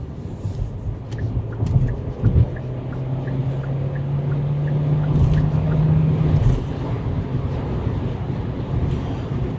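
A 2024 Kia Sportage Hybrid accelerates under a good amount of throttle in winter driving, a smooth rising drone heard from inside the cabin over steady road and wind noise.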